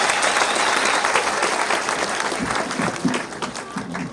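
An audience at a public ceremony breaks into dense, sustained applause, loud and close, with many hands clapping together and a faint murmur of the crowd underneath.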